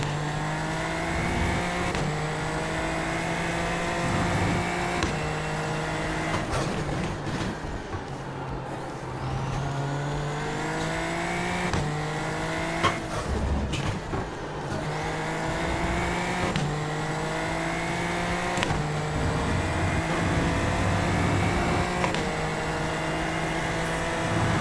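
A race car engine in an open-wheel racing video game drones loudly and steadily, with repeated rises and drops in pitch as the engine revs through gear changes, and no voices over it.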